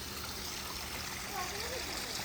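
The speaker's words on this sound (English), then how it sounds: "And then look at the waterfall, you guys." A backyard garden waterfall spills down a hillside, its steady splashing and trickling rush running close and continuous, with a faint voice underneath.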